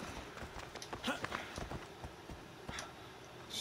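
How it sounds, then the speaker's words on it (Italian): Horse hooves in the video game Assassin's Creed Odyssey, faint irregular clip-clop beats scattered over a quiet background with occasional sharper knocks. "Stupido cavallo."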